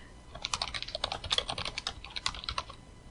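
Python code is typed on a computer keyboard in quick, irregular bursts of crisp key clicks, close and fairly quiet, over about three seconds with no voice.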